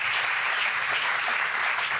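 A studio audience applauds, with dense, steady clapping that fills the whole moment.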